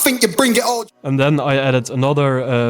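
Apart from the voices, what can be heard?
No everyday noise stands out behind the speech.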